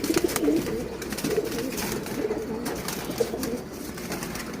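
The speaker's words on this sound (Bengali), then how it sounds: "এই যে এখানে কিছু কবুতর আছে" Several pigeons in a loft softly cooing in low, repeated throaty calls, close and steady over a continuous background hum.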